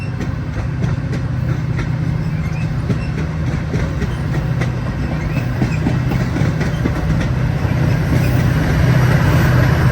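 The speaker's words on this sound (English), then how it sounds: "Here's an eastbound Metra commuter train heading from Metra's Aurora Transportation Center to" An eastbound Metra commuter train rumbles past nearby on BNSF Railway track in LaGrange, Illinois, with a steady low roar and rhythmic clickety-clack of wheels over rail joints, continuous and loud throughout.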